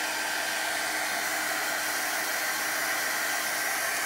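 A hair dryer blows steadily to dry watercolor paint, a loud, even whooshing hiss held close and unbroken throughout with no voices.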